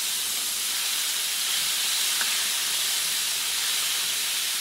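Chicken frying in hot oil for chicken garlic fried rice, a steady broad sizzling hiss that stays constant and fairly loud throughout with no talking.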